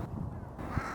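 Crows cawing in a Finnish spring field where lapwings contest territories, with short harsh calls over steady background noise and one louder call near the end.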